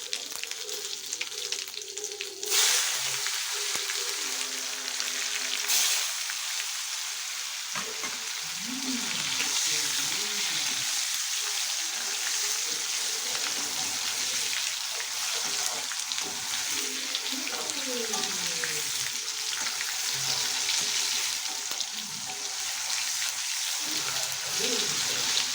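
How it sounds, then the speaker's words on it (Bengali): Spices and tomato frying in hot oil for a Bengali-style chicken dum, giving a steady, loud, broadband sizzle with some stirring and scraping throughout and faint talk at times. "এবার এই তেলের মধ্যে দিয়ে দেব এই যে মশলাগুলো।"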